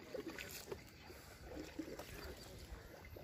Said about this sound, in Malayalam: അദ്ദേഹം തുഴയുന്ന നമുക്ക് കാണാം. അറ്റത്തിരുന്നിട്ട് തുഴയുകയാണ്.